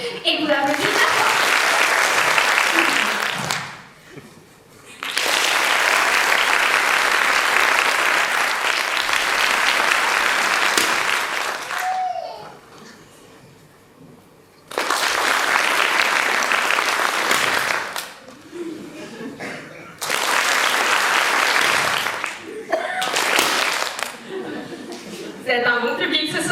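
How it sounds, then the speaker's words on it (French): Loud bursts of audience applause at a live stage show come in several separate waves, each several seconds long with quieter gaps between them, and some chuckling and laughter mixed in. "Et vous applaudissez bien fort."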